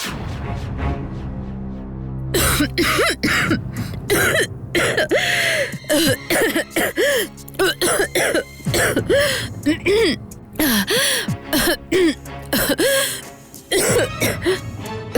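An animated woman coughs repeatedly and clears her throat in short, close bursts, over a dramatic musical background.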